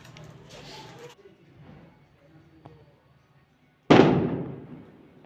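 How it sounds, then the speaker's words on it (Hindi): Firecrackers set off outdoors during a wedding-season celebration, a loud sharp burst with a long crackling decay arriving suddenly after a quieter stretch with faint background voices. "पटाखे फूट रहे हैं, शादियों का सीजन है"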